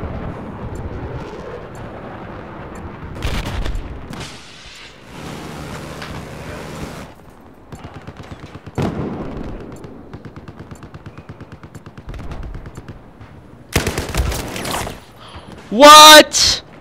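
Battlefield 4 combat with bursts of gunfire and bullets whizzing past, steady rattling shots at moderate distance broken by a few sharper loud cracks, under people talking.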